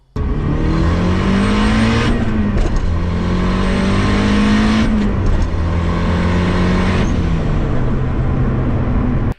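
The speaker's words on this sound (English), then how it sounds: "I swapped a Handis K24 into my 2000 Subaru Impreza Coupe." A 2000 Subaru Impreza Coupe fitted with a swapped Honda K24 engine revs hard and continuously, its pitch climbing and falling in repeated sweeps, loud and close with no talking.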